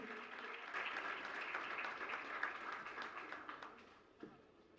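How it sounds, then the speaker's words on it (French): An audience claps for an honoree during a Haitian broadcast event, a moderate, slightly uneven patter that thins and fades toward the end, with a faint voice underneath. "Battons gros applaudissement pour Patrick Atier"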